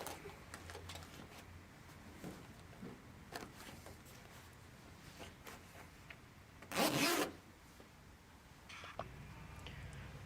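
A zipper runs once on the fabric cover of an Osaki OS-3D Pro massage chair, a short close burst standing out over a quiet room with scattered small ticks and handling noises.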